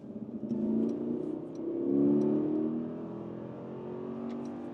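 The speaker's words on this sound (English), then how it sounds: "that V8 is going quite well" A Mercedes GLS 580 with a mild-hybrid V8 accelerates hard in sport mode, engine note rising in two strong surges with a gear change between, heard from inside the cabin without talk.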